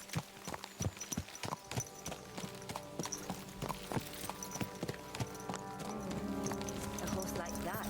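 Horse hooves clip-clop in the medieval game Kingdom Come: Deliverance II, a quick irregular trot of hard strikes that settles into a steadier rhythm, with voices talking over it.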